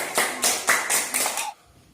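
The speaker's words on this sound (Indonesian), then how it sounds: "tepuk tangan untuk Rahel" Classroom students clap together for a classmate in a few quick, rhythmic bursts, close and lively, stopping abruptly after about a second and a half.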